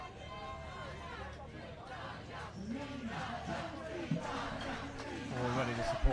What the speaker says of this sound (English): Already the support from the crowd comes through, charging up the Italians